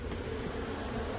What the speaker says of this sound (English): All right, time to chase the bees out.